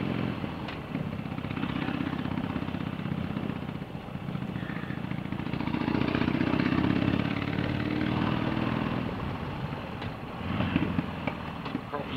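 Harley-Davidson motorcycle engine while riding on Yorkshire country roads, a continuous low rumbling drone with wind noise that swells and eases with throttle changes, with a person talking over it.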